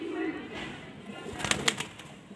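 Soft low cooing from a Chinese breed pigeon, brief and close, with a short rustle or flutter and clicky handling noises near the end.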